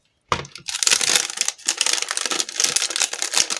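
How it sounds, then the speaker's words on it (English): Plastic packaging crinkles and crunches near and loud during UV resin experiments with clingfilm and packaging, in dense bursts of crackling lasting about three seconds with brief pauses, no voices. "I'll stop crinkling for a second."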